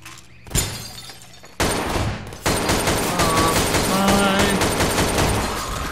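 Gunfire in the video game Garry's Mod (Half-Life 2): a single sharp shot followed by two more loud bursts, then sustained rattling and crashing game effects.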